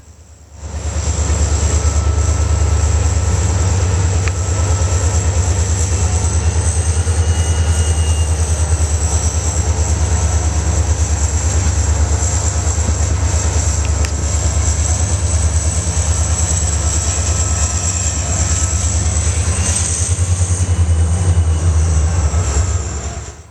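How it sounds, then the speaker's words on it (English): A lone SD40-2 diesel locomotive rolls through a rail yard in Galesburg, Illinois, its loud, steady low engine drone and a high whine holding unbroken and close throughout. "we finally see the locomotive, a lone SD40-2"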